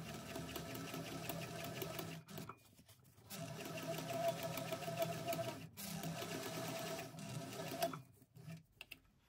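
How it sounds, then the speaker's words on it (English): A sewing machine top stitches a bag at its longest stitch length of about 4 mm with a 1/8 inch seam allowance. It chatters close and steady in several runs, broken by short pauses. "I'm just going to top stitch through here with an 1/8 inch seam allowance"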